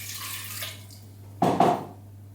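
Red wine poured into a pot of pickling liquid with black peppercorns for pickled red cabbage, a short close splashing pour lasting about half a second after a quiet start.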